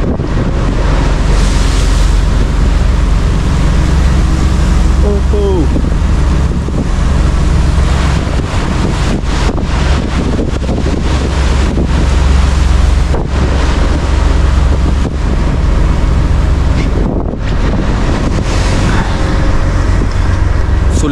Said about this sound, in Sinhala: සාමාන්‍යයෙන් මීටර් 10ක් 15ක් අතරේ වගේ රැල්ලක් ස්වෙල්ලක් එනවා